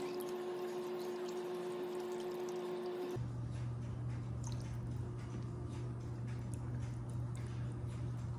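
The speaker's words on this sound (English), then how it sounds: "I'm just gonna whisk this all together" A clumpy butter mixture is whisked in a bowl for a ham and potato au gratin bake, giving a rhythmic ticking and clinking of the whisk over a steady background hum, with no talking.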